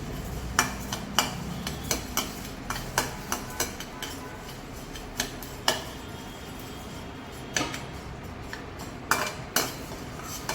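Coriander seeds dry roasting in a pan, heard as repeated clicking taps and scrapes of a spoon stirring the seeds against metal, irregular and fairly quiet with no sizzle.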